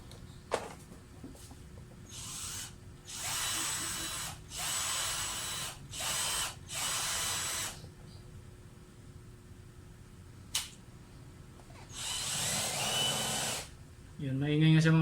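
A faulty Mitsubishi Adventure speedometer gauge whirs in a series of rough, gritty bursts of a second or two each, separated by short pauses, loud and close.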